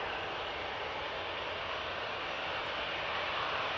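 A fixed-wing airliner roars continuously at full power on its takeoff run for a short positioning flight to Birmingham, a loud, steady, broadband engine noise with no talk.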